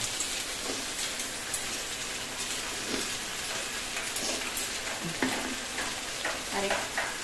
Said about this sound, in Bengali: তেল দিয়ে পটল রসাতে একটু তেলই লাগে